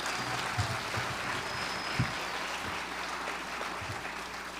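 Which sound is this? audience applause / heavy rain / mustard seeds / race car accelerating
audience applause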